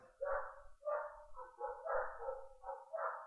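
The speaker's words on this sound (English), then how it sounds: "Wow, they're really just going at it, those dogs." A dog barks in a rapid run of about eight yips and woofs, some echoing, heard somewhat distant and muffled with no talk over it.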